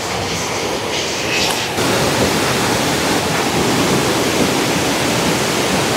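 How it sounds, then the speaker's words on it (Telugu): Abbe Falls in Coorg roars as a dense, loud, unbroken wash of falling water heard up close, steady throughout with no voices. "వెల్కమ్ టు అబ్బే వాటర్ ఫాల్స్"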